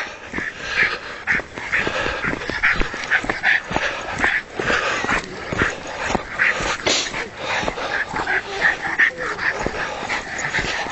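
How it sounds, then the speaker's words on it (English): Small dogs bark and yip repeatedly in rapid, high-pitched bursts, a continuous excited chorus nearby lasting throughout. "Little dogs."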